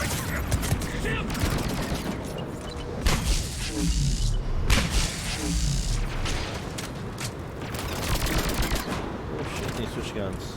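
Video game gunfire in dense, rapid bursts and sustained automatic volleys with mechanical clanks and booms, loud and close throughout, with a voice speaking briefly over the shooting.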